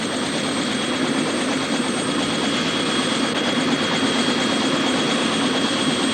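A helicopter in a 1970s zombie film drones steadily throughout, its rotor thrum and engine whine loud and continuous with no voices over it.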